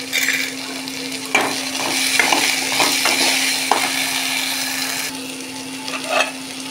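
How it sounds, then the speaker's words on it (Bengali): Potato and pumpkin pieces frying in a pan of oil with a pinch of salt and turmeric, a steady close sizzle broken by several sharp scrapes and clicks of a spatula stirring the vegetables. "আলু কুমড়োটা একটু ভেজে নেওয়ার পর পুঁই শাকগুলো দিয়ে দেব।"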